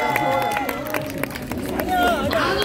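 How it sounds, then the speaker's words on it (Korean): Street busking audience in Hongdae, Seoul clapping along, with sharp claps scattered through crowd noise and a voice speaking over them, close and fairly loud. "박수!"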